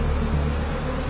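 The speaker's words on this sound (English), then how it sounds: "Tim Fogg rigged ropes to film Tete collecting honey from a wild bee's nest." Angry wild bees buzz thickly around their nest in Africa as it is raided for honey, a loud close swarm drone over a brief moment.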